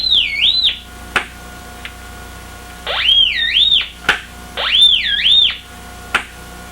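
A Syncrometer probe gives three loud, rising and warbling electronic tones, each a second or so long, with sharp clicks in the gaps between them.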